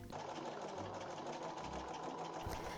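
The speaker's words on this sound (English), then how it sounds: "I made the decision to machine sew as much as I could for strength" A sewing machine stitching a 1930s bias cut slip runs in a steady, close, fast whirring and rattling burst, with a brief drop in pace partway through before it carries on.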